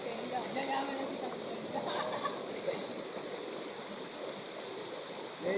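Rough choppy water off the coast of Cavite sloshes and splashes steadily against a boat, a broad rushing wash with small splatters throughout, while people talk over it.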